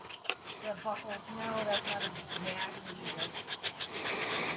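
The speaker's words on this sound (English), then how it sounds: "Sanding away, sanding away," Sanding by hand on a damaged Star Wars armor blaster prop, a steady rhythmic rasping of strokes back and forth, close and moderately loud, with a faint voice in the background.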